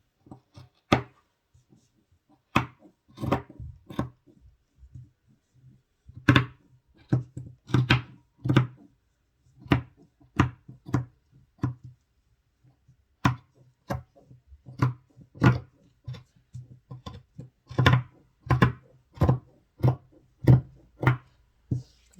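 Scissors cut a fabric pattern piece for a Basque waistline with a deep V yoke. Close, irregular snips and dull thunks against a table repeat throughout, with short pauses and no talking.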